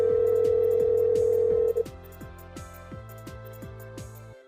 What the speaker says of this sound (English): The system will dial the number automatically.